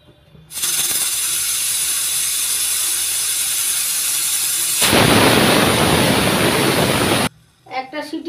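Pressure cooker on a gas stove over high heat, a loud continuous hissing rush that swells into a harsher burst of steam before cutting off abruptly, followed by brief clatter.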